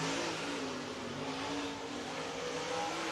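Race car accelerating during a qualifying lap at Lake Cumberland Speedway in Burnside, Kentucky: a continuous, fairly faint engine drone rising and falling in pitch, heard from a distance, with no voices.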